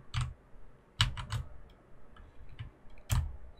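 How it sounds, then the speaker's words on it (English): Computer keyboard keys pressed at a desk while testing a Unity 2.5D platformer: sparse, crisp clicks close to the mic, arriving singly and in quick pairs against a quiet background. "Okay, as I press the keyboard,"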